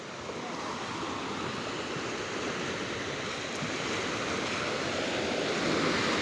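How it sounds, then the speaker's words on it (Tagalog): Gentle sea waves wash continuously onto the shore at a fishing port in Julugan, Tanza, Cavite, in the morning, making a steady broadband surf hiss with light wind. The sound is moderately faint and even throughout, with no talk. "Ito at meron tayong bahagyang alon."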